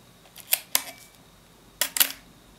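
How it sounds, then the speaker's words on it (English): Film advance on a Minolta XD7 35mm SLR camera being wound manually: two short pairs of sharp mechanical clicks and ratchet sounds, close and alone in a quiet room. "This camera needs to be wound on manually, so the film won't actually do it itself."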